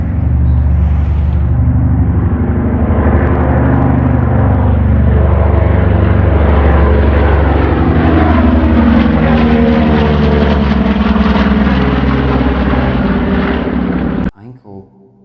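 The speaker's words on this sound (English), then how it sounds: "B-29 Super." A B-29 Superfortress, a WWII four-engine bomber, drones loudly and steadily overhead as its radial propeller engines hold a deep throbbing roar for most of the span before cutting off abruptly near the end.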